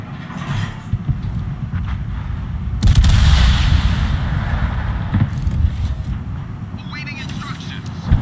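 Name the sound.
warship gun salvos from Prinz Van Oranje, video game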